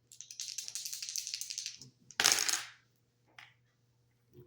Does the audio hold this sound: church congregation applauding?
no